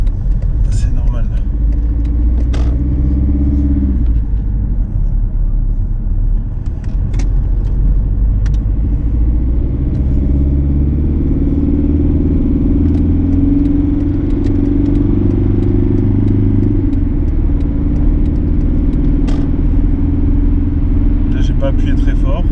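Mercedes W203 220 CDI diesel engine with a power-loss fault, revving in long swells over a steady low idle rumble with a faint whooshing, heard close and continuously while people talk throughout.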